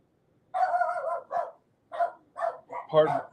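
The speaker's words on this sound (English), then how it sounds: "pardon the dogs. I apologize." Several dogs in a home bark in short, loud bursts, a sustained bark followed by a run of separate yips and barks with no talking over them.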